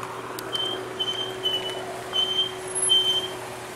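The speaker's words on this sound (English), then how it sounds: "Somebody's brakes are squealing." Vehicle brakes squeal in passing traffic outside a shopping store: several thin, high-pitched squeals come in short bursts over a steady low engine rumble and street noise.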